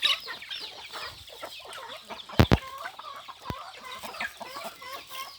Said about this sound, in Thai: นี่เป็นไก่ของสุภาพบุรุษตัวโตนะครับ